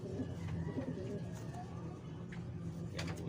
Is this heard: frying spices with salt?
no